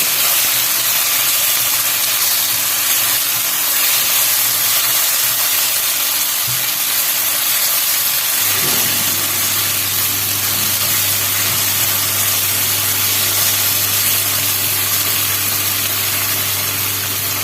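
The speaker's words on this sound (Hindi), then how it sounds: "थोड़ा सा इसको फ्राई करके इसके अंदर अंडे डालेंगे।" Ginger masala with turmeric, salt and chili sizzles in a pan for an egg curry, a steady, loud hiss of frying that runs unbroken with a low hum beneath, no voices present.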